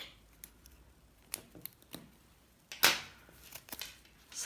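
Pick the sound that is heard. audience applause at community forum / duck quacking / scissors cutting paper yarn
scissors cutting paper yarn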